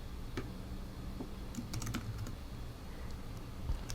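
Light typing on a computer keyboard, a steady patter of close, soft key clicks with uneven rhythm over faint background hum.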